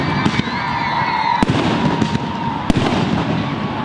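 A graduation fireworks salvo crackles and pops continuously, with two sharp loud bangs standing out against the steady fizzing bursts.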